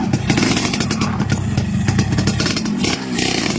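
A motorcycle engine runs steadily and loud throughout, with a dense low rumble and rattling clatter and no pause.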